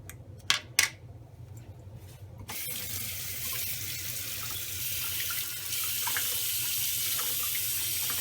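Tap water runs steadily into a sink as a sponge is rinsed, preceded by a few brief knocks and handling sounds, then a continuous close rush of water that grows slightly louder, no talking.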